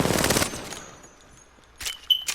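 An R99 submachine gun fires in the video game Apex Legends: a fast automatic burst lasting about half a second, then a near-silent pause before a couple of sharper shots and game sounds.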